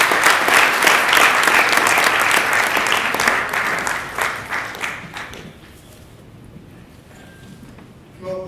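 Audience applauding a speaker to the podium at an evening innovation lecture, loud sustained clapping that tapers off after about five seconds into quiet room tone.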